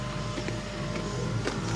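A Hyundai Kona's power window motor runs with a steady electric whir for under two seconds, close by and alone.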